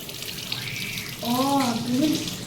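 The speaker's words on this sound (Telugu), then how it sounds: "కొంచెం నీళ్ళు పోద్దామా?" Water poured into a container for a children's science kit experiment, a close, steady trickle and splash that grows fuller partway through while a person talks over it.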